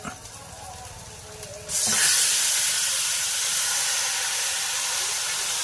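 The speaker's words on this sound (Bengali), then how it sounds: "এবার মাংসটা দিয়ে দিচ্ছি" Meat drops into a pan of frying onion, tomato, ginger and garlic, and a faint earlier sizzle suddenly turns into a loud, steady hiss that holds to the end.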